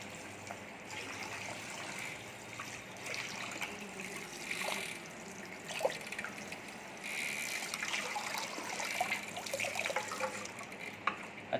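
Water runs steadily from a salon wash-basin tap, wetting hair, in a continuous trickling rush with small splashes as the flow shifts, no voices.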